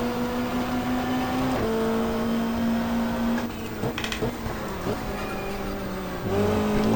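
Race car in the GTR2 sim racing game, a 1995 Australian Super Touring car at the Gold Coast Indy street circuit, braking through a chicane: steady engine tone that dips and shifts pitch with downshifts and brief rattling, loud and close.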